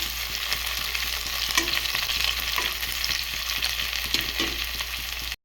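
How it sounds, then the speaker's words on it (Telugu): Green chillies and curry leaves fry in hot oil in a pan for an eggplant curry, giving a continuous, dense crackling sizzle with occasional stirring scrapes and no voices. "పచ్చిమిరపకాయలు కూడా, కరివేపాకు వేగనిచ్చాం. కోపు అయితే ఇలా వేగుతుందండి."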